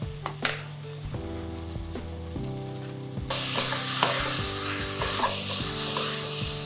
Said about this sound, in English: We'll stir it for a couple of minutes and then we'll add the spice.